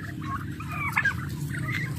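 A farmyard turkey gobbles in a rapid warbling burst amid a steady low background din of poultry and ambient noise, moderately close, no talk.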